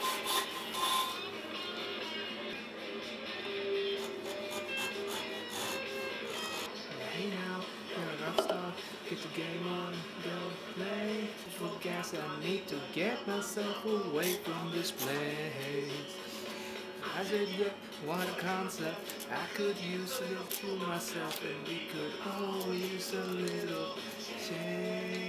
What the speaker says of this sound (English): And then moving on to sawing out